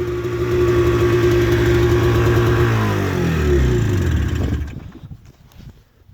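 A 1998 Arctic Cat Z440 fan-cooled twin-carb snowmobile engine runs loud and close, holding a steady drone, then its pitch sweeps and wavers before the engine fades down toward the end.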